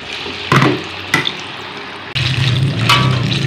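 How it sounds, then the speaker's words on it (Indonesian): Banana pieces frying in hot oil, a steady sizzle that jumps in loudness as more fruit drops into the pan, with a few sharp clatters of a utensil in between, close and fairly loud. "Setelah bakwan, mari langsung kita goreng pisang."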